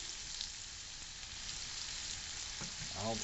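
Potatoes sizzle in a pan with bacon fat, a steady soft crackling hiss that stays faint and continuous, and a brief voice surfaces near the end.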